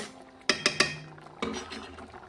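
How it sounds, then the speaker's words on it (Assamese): A lid comes off a cooking pot of fish curry with taro, and the curry is stirred. A few sharp metallic clinks are followed by softer scraping, all fairly quiet and close. "এতিয়া মই ঢাকোনখন আঁতৰ কৰি অকণমান লৰাই লওঁ।"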